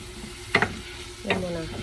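Tomato goes into a pan of frying garlic and onion, and a soft sizzle runs beneath two sharp scraping stirs of a utensil against the pan.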